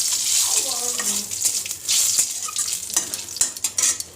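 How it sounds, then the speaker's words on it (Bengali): Dry red chilies, cumin seeds and bay leaves fry in hot oil for a tempering for moong dal, giving a loud, close, crackling sizzle with stirring clatter and scattered pops throughout. "এখনও আমি শুকনো লঙ্কা, জিরা আর তেজপাতা ভেজে নিচ্ছি।"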